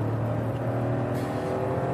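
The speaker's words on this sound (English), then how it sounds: "the 998cc unit sounds playful, its normally aspirated note filling the cabin with a characterful three-cylinder" Steady, even drone of a normally aspirated 998cc three-cylinder engine in a 2014 Citroen C1, heard from inside the cabin as a continuous low thrum with no talk.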